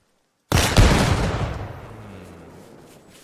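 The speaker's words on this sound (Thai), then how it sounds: "อ่ะเราลองยิงเข้าไป" A single loud gunshot fired at a test target in Arma Reforger, a sharp crack that starts after a short silence and trails off in a long echoing decay, alone.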